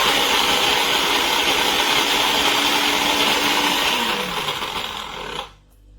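A Tefal Blendforce II blender with a 2L plastic jug runs its weak motor in a steady, close, loud whir for about five seconds, then cuts out and fades away.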